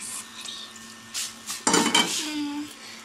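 Food tipped into a hot pan of fried cumin seeds, with metal clatter of utensils and a lid set down, followed by a faint sizzle.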